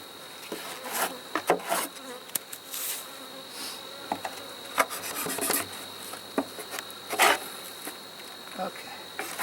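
Honey bees buzz around close by at a hive during fall honey extraction, a busy droning hum with scattered rustling and scraping knocks, no clear talk.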